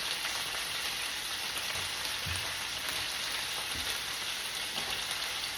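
Pot roast sears in a hot pan with dense, continuous sizzling and scattered pops of spattering fat, a steady loud hiss with no talking.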